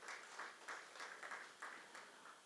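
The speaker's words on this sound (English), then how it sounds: "Let's just give them a big round of applause and thank you so much for what you've done." Faint, distant applause from a corporate event audience thanking the event team, with soft rhythmic clapping pulsing steadily throughout.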